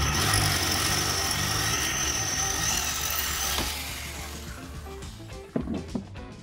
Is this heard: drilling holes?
yes